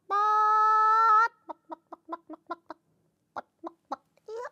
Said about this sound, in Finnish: ihan niinku tuolta mun selän takaa olisi kuulunut kotkotusta